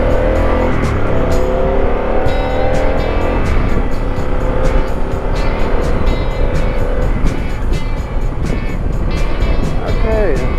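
A Harley-Davidson Pan America motorcycle ridden on the road in road mode, its engine droning and rising and falling in pitch close by under steady wind rush, with a rider talking over it.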